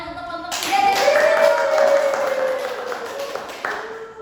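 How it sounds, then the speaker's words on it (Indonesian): Classroom of students clapping for a presenting group during a micro-teaching session, steady close hand claps over a murmur of voices, with a sustained tone running underneath. "Dan Tepuk tangan untuk kelompok 3."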